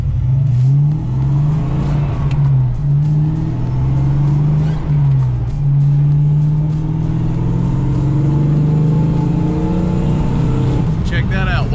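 A Foxbody Mustang running on E85 pulls hard at wide open throttle, its engine roaring loud and close as the pitch climbs and steps through gear changes, with a voice talking over it near the end.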